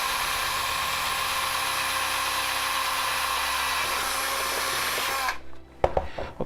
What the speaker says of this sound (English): at least with the right drill bit I can drill it pretty clean